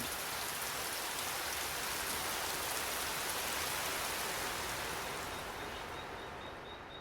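Steady, dense rainfall hisses evenly throughout in the Peruvian rainforest, a broad wash of drops on surfaces that eases slightly near the end.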